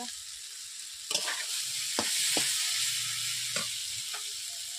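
Fried potatoes stirred in a pan of oil while cooking a village-style fresh small-fish curry, giving a steady sizzle with a few sharp scraping knocks of the utensil; close and continuous, no voices.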